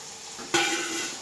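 Fried chicken with fresh coriander leaves being stirred in a pan, a scrape at the start and then a steady loud sizzle, close by with no talk.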